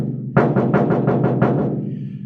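Knuckles knock on the door panel of a 1955 Chevy truck lined with Noico RED 315 mil sound deadener: about seven rapid, dull, damped knocks, close and loud, with a short fading tail.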